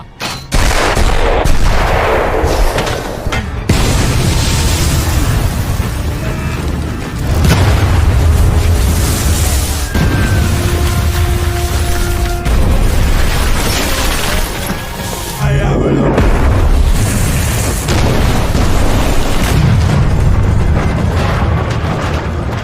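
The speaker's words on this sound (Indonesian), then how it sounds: "mereka langsung menyiapkan artileri untuk membombardir pasukan Letnan 1 Evgeny yang berada di desa Ovsyanikovo" Heavy artillery bombardment pounds the village of Ovsyanikovo near Rzhev, with loud continuous booms, explosions and gunfire layered densely throughout, brief lulls and near blasts rising out of the constant roar.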